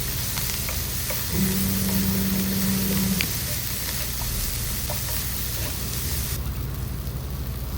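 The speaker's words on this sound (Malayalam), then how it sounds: "ഇനി നമുക്കിതിലോട്ട് നേരത്തെ അരിഞ്ഞു വെച്ച മല്ലിയിലയും കറിവേപ്പിലയും പച്ചമുളകും ഒക്കെ ഇട്ട് കൊടുത്ത് നല്ലോണം മിക്സ് ചെയ്യാം" Chopped coriander leaves, curry leaves and green chilli stirred into a sizzling egg mixture in a pan, a steady frying hiss throughout with a brief tonal hum partway and a faint spoon scrape.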